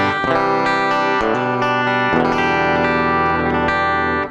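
Electric guitar played through an MXR Rockman X100 on its clean setting with gated reverb, ringing chords and sustained notes sounding bright and shimmering, loud and close with no talk.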